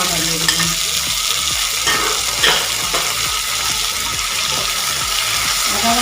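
Tomato, chopped chilli, garlic paste and ginger paste frying in a pan, giving a steady loud sizzle broken by rhythmic scraping strokes of a stirring spoon.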